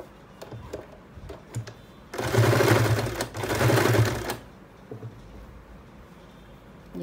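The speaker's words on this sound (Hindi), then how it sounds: "ये देखिए ऐसे रखेंगे और इसे सिलेंगे।" A sewing machine stitching together leftover fabric pieces: two close, loud bursts of fast, rattling stitching separated by a short pause, with quiet handling sounds of the fabric before and after.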